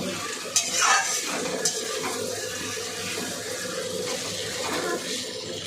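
Steady sizzling as vegetables stir-fry in a pan for fried rice, with scraping stir sounds and a few clinks, continuous and close, no talking.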